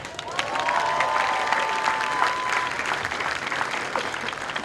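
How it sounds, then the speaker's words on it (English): A crowd at a US Air Force Basic Military Training graduation ceremony claps in sustained applause with scattered cheers, filling the space for several seconds before slowly thinning out. "Give yourself a round of applause."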